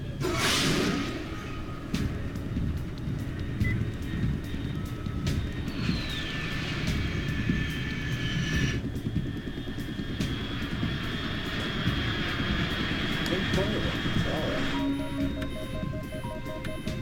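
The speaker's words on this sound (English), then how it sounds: "Unidentified aircraft detected." An aircraft flies overhead in the video game Metal Gear Solid 3: Snake Eater. A steady, fairly loud engine drone carries on throughout, with a rising whoosh midway and shifting tonal hums. No one talks.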